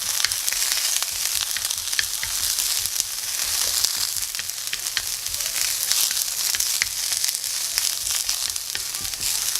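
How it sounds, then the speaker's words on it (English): Garlic fries in a pan, making a steady, close crackling sizzle with dense popping spatters that holds evenly throughout, no voices. "Then I'll put my garlic in."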